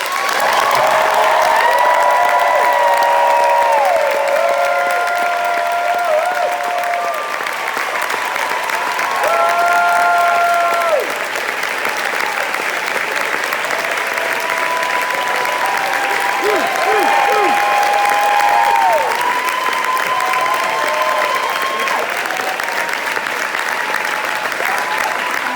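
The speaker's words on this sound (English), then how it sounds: "Can you put your hands together and cheer one more time for the people who originally inspired this?" Broadway theatre audience applauding and cheering at the final bows of Come From Away, loud sustained clapping with whoops, while tonal music or sung notes ring over the crowd the whole time.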